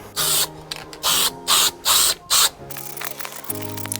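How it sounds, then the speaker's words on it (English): Five short hissing bursts of an aerosol spray paint can outdoors, painting a replacement Ford Falcon side mirror, each about a third of a second, in a steady rhythm, followed by quieter clicks and handling noise. "I can be outside so that I don't get spray all over my garage, and I spray them"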